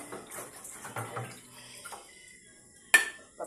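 Tap water running and splashing while plates and pots are washed by hand at a kitchen sink, with soft clinks of dishes and a sharp clatter near the end.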